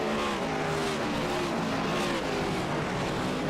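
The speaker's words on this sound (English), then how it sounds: "Those tires have got to be screaming." NASCAR Cup Series race cars at Gateway in the sim racing game iRacing, with a loud continuous engine drone and gliding pitch lines under a steady screaming tire roar, no speech.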